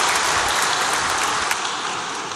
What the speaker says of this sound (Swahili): tumpigie makofi mengi Mheshimiwa Mavunde kwa kuwa nasi